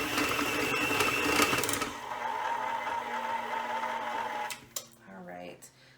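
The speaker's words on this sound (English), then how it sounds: "mixer. It's very loud and clunky." A loud, clunky electric kitchen mixer runs continuously for about four seconds while mixing fudgy chocolate chunk brownie batter, then cuts off, leaving quieter kitchen clatter and a brief voice.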